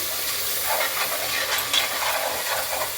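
Curd being stirred into masala as it fries in a pan: a dense, steady sizzling hiss with soft scraping stirring movements, close up and continuous, with no voices.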